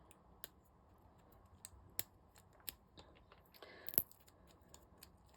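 Scissors trimming cured resin on a small gilded frog project, a handful of quiet, sharp snips spaced a second or so apart, close and alone.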